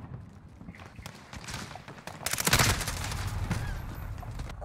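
MP5 submachine gun fire in a video game shooter crackles in rapid bursts, growing denser and louder partway through into a sustained volley.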